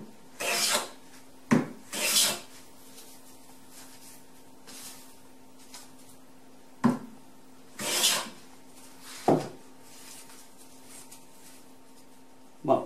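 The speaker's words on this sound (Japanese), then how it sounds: "カンナに刃を取り付けて削ってみたいと思います" A Western hand plane with a blade freshly sharpened on a belt sander takes several long rasping strokes along a wooden board. The strokes come loud and close, separated by quiet pauses.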